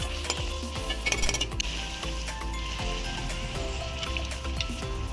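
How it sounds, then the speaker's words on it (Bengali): Luchi fry in hot white oil with a steady, close sizzle and bubbling, broken by light clinks and stirring taps from a utensil against the pan. "গরম সাদা তেলে লুচিগুলোকে এক এক করে ভেজে নেব।"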